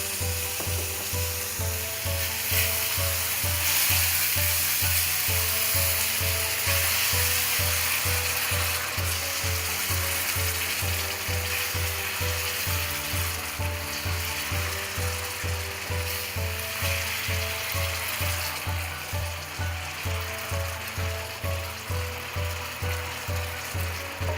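Tomato puree for matar paneer sizzling in a hot pan, a steady loud hiss of frying with a low rhythmic pulsing underneath, continuous throughout and without talk.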